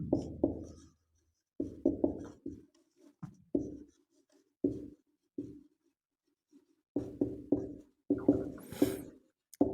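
Chalk or marker writing on a board during a history lesson, short scratchy strokes in irregular clusters separated by quiet pauses.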